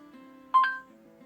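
Two short electronic tones from a portable Android car display as a phone call is placed, a quick rising double beep over a faint steady hum, with no speech.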